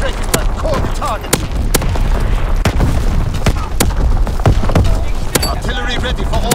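Heavy artillery battery fire in Call of Duty WW2 on the Shipment 1944 map, with dense, loud, overlapping booms and thuds rolling continuously alongside sharp gunfire cracks.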